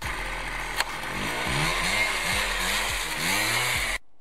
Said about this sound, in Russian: После того, как щелкнул выключателем, через 5 секунд завел двигатель. И сразу по газам.